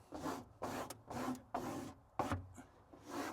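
Squeegee strokes pressing XPel protective film onto a Cybertruck body panel, a series of about six close, dry rubbing swipes in steady rhythm with short gaps between them, no talking.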